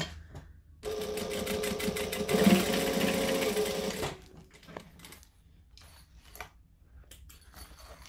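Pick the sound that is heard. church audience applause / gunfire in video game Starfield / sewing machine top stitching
sewing machine top stitching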